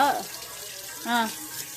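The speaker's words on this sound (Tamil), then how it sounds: "தேய்ச்சி கழுவ கைய" Tap water runs at a kitchen sink while hands are washed after touching eggs, a soft steady wash with a brief voice heard at the start and again near the middle.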